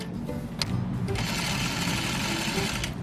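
A sewing machine runs continuously at close range, its rapid, steady mechanical chatter filling the whole stretch as it stitches a quilt block over pins.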